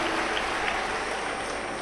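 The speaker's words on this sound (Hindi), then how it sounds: "बहुत जोरदार ताली बजाकर" Large audience at a Shiv Mahapuran katha religious discourse in Bhilai breaking into dense, steady applause, loud and continuous from start to finish with no speech.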